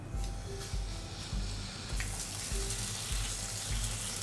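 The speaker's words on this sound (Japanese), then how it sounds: "こんな感じでしっかりお肉ね、広げながら焼いていってください" Meat frying in an oiled frying pan, a steady crackling sizzle, fairly quiet, with a few soft thumps from spreading the meat with a utensil.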